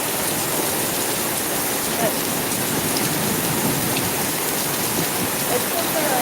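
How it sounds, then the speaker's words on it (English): Heavy rain pouring steadily during a storm in an urban street in Florida, a dense, continuous hiss of water on surfaces close around, with no break for the whole stretch. "Yeah, it's really raining."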